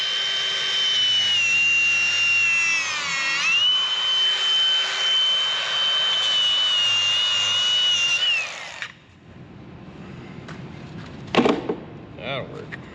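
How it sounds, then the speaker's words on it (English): An angle grinder cuts off a part with a loud, high whining scream for about nine seconds, pitch dipping as the disc bites, then stops, leaving quieter clatter and a short scraping burst. "So we're doing it with a grinder."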